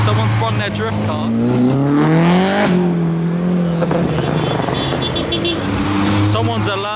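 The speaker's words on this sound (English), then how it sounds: "Someone's run their drift car." A drift car drives past at a modified car meet, its engine note rising and falling over several seconds, fairly close and loud, with people talking over it throughout.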